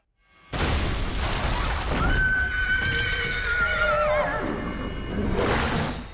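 A horse in a Teen Wolf scene gives a loud, drawn-out whinny over a booming score, with clattering sounds that start and stop around it. No one speaks.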